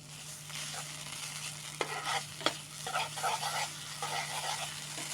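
A spoon stirs a sticky pumpkin laddu mixture in a pan, giving soft repeated scraping and thudding strokes over a low sizzle and steady hum, close and unaccompanied by talk.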